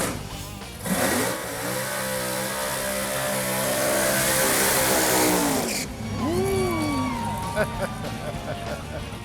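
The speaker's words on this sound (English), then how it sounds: "Let's see a grocery getter burnout." A car doing a burnout, with a loud, sustained revving engine roar held near the redline for several seconds, then dropping back to idle with a brief squeal. Someone talks over it.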